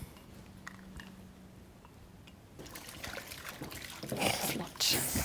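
Water poured into a vegan grilling marinade of salt, garlic powder, onion powder and tomato paste, a close splashing trickle that swells near the end after quieter handling noises.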